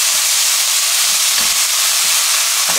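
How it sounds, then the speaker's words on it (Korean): Bean sprouts and minced garlic frying in oil in a pan, a loud, close, continuous sizzle and hiss with faint stirring knocks. "그 다음에는 숙주를 이렇게 숙주를 넣어줍니다"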